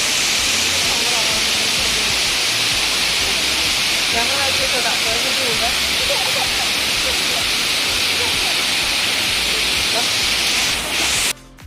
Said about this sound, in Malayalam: ഇതാണ് വാട്ടർഫാൾസ്, കിളിയൂർ വാട്ടർഫാൾസ്